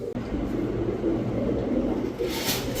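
Pigeons in a breeding loft, including Pakistani teddy and other fancy breeds, cooing in low repeated murmurs close by, steady over a faint background hum.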